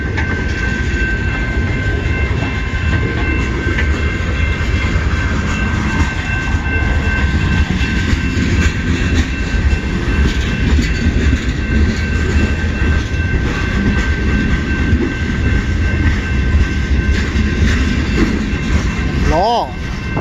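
Loud, sustained rumble and clatter from a long CN freight train passing close at South Rockwood, steady for the whole stretch, with a brief voice-like rising sound near the end.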